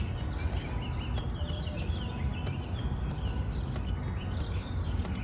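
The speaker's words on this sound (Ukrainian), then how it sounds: "А послухайте, як пташки співають зранку." Birds chirp and call in the distance over a steady low outdoor rumble, scattered bursts of song rising now and then.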